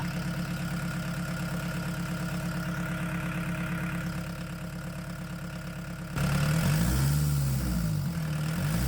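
A diesel engine idles steadily at about 1,047 RPM with an even mid-pitched rumble and knock, then a louder, rougher burst near the end as the engine note shifts, heard up close with no talking.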